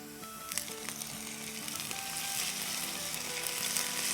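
Potatoes sauté in a pan and turn lightly brown, with a steady close sizzle and a few sharp clinks of utensils against the pan, and no talking.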